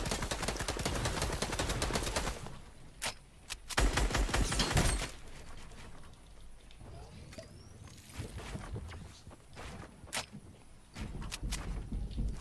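Gunfire in Fortnite: dense bursts of rapid automatic shots come in clusters, with brief gaps of quiet and shuffling movement between volleys, loud and close.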